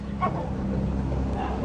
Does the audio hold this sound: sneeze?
no